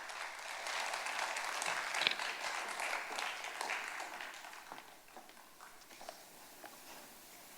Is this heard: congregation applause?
yes